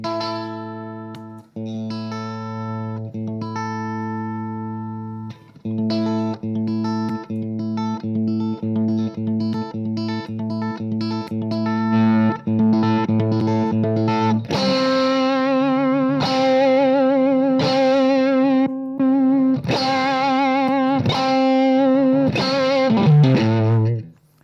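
Electric guitar through an all-tube preamp, with a warm, overdriven tone, plays sustained chords and picked notes, loud and close, with no talking.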